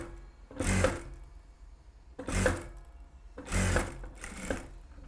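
A sewing machine stitches along a blouse back neck edge in three separate runs, each a short loud whirring burst with quiet pauses between, no talking.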